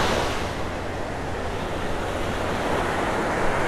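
Steady roar of ocean surf washing onto a mile-long stretch of Vanderbilt Beach in North Naples, Florida, continuous and close with some wind noise, no voices.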